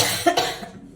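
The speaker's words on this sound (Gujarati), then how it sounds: "ઉધરસ આવે છે." A person coughs sharply once or twice up close in a home kitchen while cooking kadhi, the bursts trailing off into quiet.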